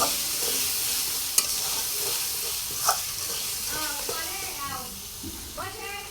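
Mustard paste, salt and turmeric sizzle and hiss in a pan while being stirred, a steady frying sound with scraping strokes and speech over it.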